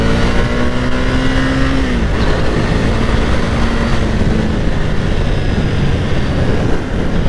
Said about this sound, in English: when somebody's doing a wheelie, it sounds very particular